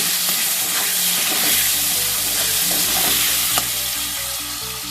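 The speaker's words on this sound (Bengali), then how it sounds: "এখন দেবো আমি পরিমাণ মতো নুন। দিয়ে আবার একটু নাড়াচাড়া করে নেব।" Spiced paneer curry stirred in a hot pan after salt goes in: a dense, continuous sizzle with soft scraping strokes of a spoon, close by and steady.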